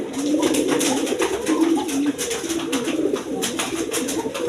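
A pair of chuina pigeons at a pigeon seller's stall coo in repeated low, throaty rolls, close and steady, with faint rustling and clatter in the background and no talk.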